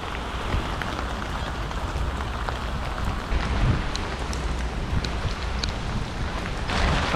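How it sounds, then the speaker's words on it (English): Heavy rain pours steadily at a beach in Jakarta, a dense, continuous hiss of drops on surfaces with some wind buffeting the microphone and no speech over it. "This would probably look quite nice if it wasn't for this damn rain."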